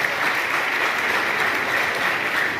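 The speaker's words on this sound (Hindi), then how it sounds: "जोरदार तालियों से स्वागत करें" A brief burst of vigorous audience applause greets a speaker arriving on stage at a business seminar, dense and steady clapping from a large crowd.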